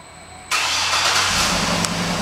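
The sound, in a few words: 2009 GMC Yukon Denali engine starting by remote start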